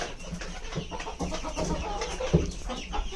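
Domestic chickens cluck repeatedly at fairly close range, soft overlapping calls forming a steady low murmur of fowl sounds with no talk.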